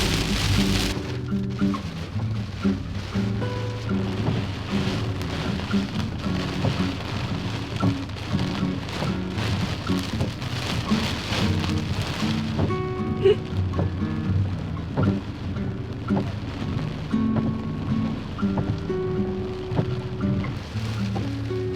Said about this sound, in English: It's about to torrentially rain, there's thunder, there's lightning